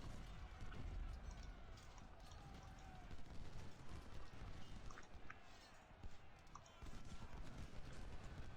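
Battle video game combat with steady, dense gunfire: overlapping volleys and shots crackle continuously at moderate loudness over a constant rumbling background.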